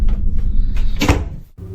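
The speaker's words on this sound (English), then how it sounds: "has gotten so used to this frequent knocking that he no longer finds it to be terrifying" Knocking during the day, a cluster of hard wooden knocks and thuds like a cupboard or door being struck, close and fairly loud, with a sharp burst near the end and no talking.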